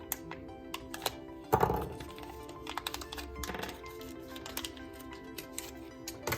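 Traxxas Slash 2WD RC car steering knuckles come out of their plastic packaging with light crinkles, taps and a louder rustle and clatter near the middle, close up.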